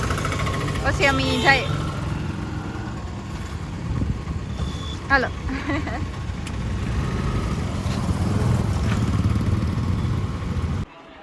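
A scooter engine runs steadily, low and close, for most of the stretch as it is started and ridden outdoors, with people talking over it until it cuts off near the end.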